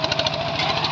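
Steady, loud engine drone of a groundwater well drilling machine in Laos, with a fast rhythmic knocking pulse running through the continuous mechanical roar.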